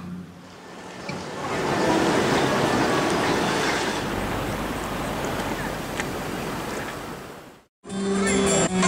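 Pacific Ocean surf at Niebla, Chile, a small river-mouth spot with a fort and fishing boats, rumbles as a steady broadband wash that swells after a second and holds, then drops out briefly before resuming.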